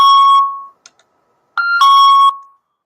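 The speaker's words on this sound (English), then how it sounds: "let me turn this dang alarm off" An electronic alarm rings in two bursts of steady high bright tones with a short gap between them, loud and close, with no talking over it.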